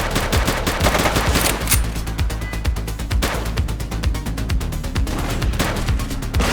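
Gunfire in the police game The Precinct: sustained rapid automatic bursts, loud and close, with a heavy low rumble underneath and no talking.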